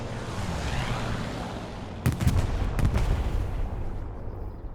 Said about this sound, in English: there will be two P-47 Thunderbolts coming in, dropping a bomb each